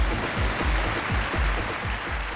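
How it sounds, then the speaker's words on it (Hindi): An audience applauds at a Box Cricket League celebration, with dense, steady clapping and a regular pulse of low thumps running through it for a couple of seconds. "सबसे पहले तो जोरदार तालियां हो जाए"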